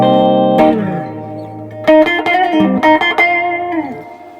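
An Ibanez AS63 semi-hollow electric guitar played through a Walrus Audio Kangra Fuzz pedal: a sustained distorted chord, then a string of choppy, gated notes with a glitchy, buzzing edge.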